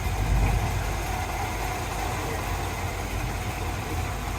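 1956 Chevy 210 post with a 327 V8, double hump heads, mild cam and electronic ignition idling close by, a steady low rumbling drone with a slight lope, no talk over it.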